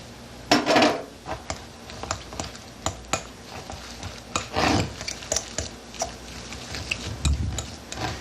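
A spoon scrapes and taps in a bowl while ricotta and beaten egg are mixed, giving irregular soft clinks and rubbing strokes, close and fairly quiet, with no talking.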